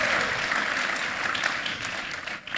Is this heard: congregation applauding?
yes